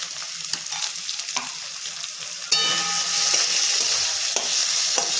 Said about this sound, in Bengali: এগুলো ভালো করে আমি কষিয়ে নিচ্ছি